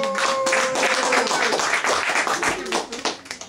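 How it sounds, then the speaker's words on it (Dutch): A small Dutch-speaking audience claps for a performer named Karel at a poetry show, a brief burst of close, crisp handclaps that thins out and turns sporadic toward the end. "Applaus voor Karel!"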